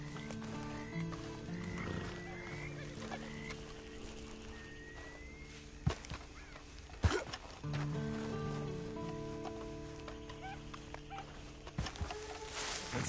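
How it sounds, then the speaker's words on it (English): A horse whinnies over low ambient hum, with a few sharp knocks and thuds scattered through; no talking. "Then you better get on this horse."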